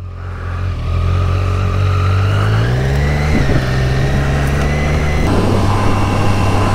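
A 2023 Triumph Street Triple 765 RS motorcycle engine hums steadily while riding, with the pitch rising and dropping through gear changes, loud and close under wind rush.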